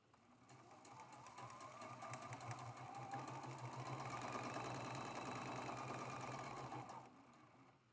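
A sewing machine stitches quilt block pieces for a Beaming Star traditional quilt block, running as one steady, continuous whir for about seven seconds before stopping.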